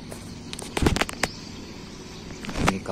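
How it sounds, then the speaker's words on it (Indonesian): Several sharp cracking blasts from festive toy cannons go off in quick succession early on, followed by another burst of bangs a little later, somewhat distant against background noise, heard from the water in Sampit during Ramadan. "Masih ada yang main meriam juga pagi ini."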